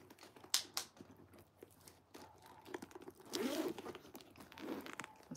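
Zipper on a genuine leather Nordstrom patent leather bag being lined up and drawn shut, a few quick rasping pulls among rustling and handling noises, close and fairly quiet.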